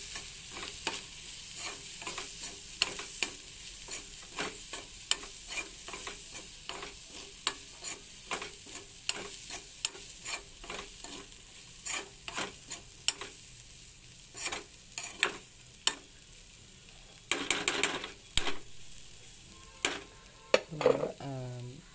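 Sardine and egg thoran is stir-fried in a pan, with repeated scraping and clattering spoon strokes over a constant soft sizzle, close up and continuing for a long stretch without speech.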